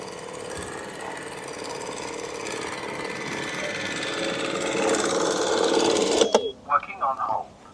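A robotic lawn mower's motor runs steadily, rising in strain and grinding with debris stuck in it, then cuts off abruptly, leaving brief voices and clatter.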